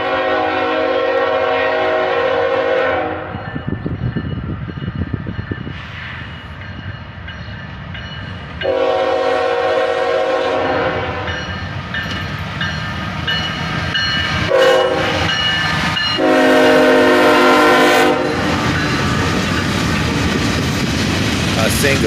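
A southbound freight train led by a single ET44AH locomotive passes close by, with long loud blasts of its horn repeated in sections over a steady rumble and clatter of rolling cars.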